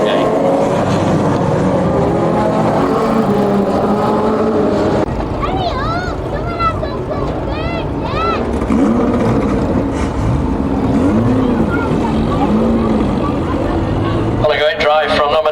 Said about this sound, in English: Gavin Hutchins, closing there on the final lap.